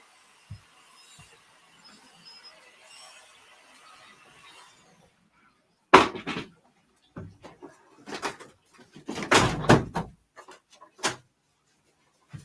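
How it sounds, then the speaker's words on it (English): An indoor door swings shut with a sharp, loud thud, followed by a few quieter knocks and rattles as it settles, after a stretch of faint room noise. "So I'm going to close the door."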